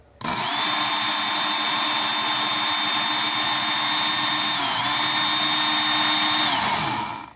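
A Work Sharp Ken Onion electric knife sharpener runs with its belt grinding a knife blade, a steady loud whine and rasp lasting about seven seconds, dipping briefly near the end before stopping.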